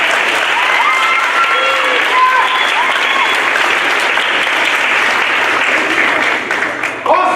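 Sustained audience applause fills a high school auditorium during a Pom Pom Effect performance, a dense wash of many hands clapping at close range. It holds steady and then tapers slightly near the end.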